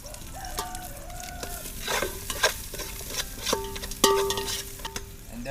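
Onions frying for chicken biryani in a Malaysian village kitchen, a steady sizzle broken by scraping stirs and clinks of a utensil against the pan, close up, with faint tonal bird or background sounds and no talking.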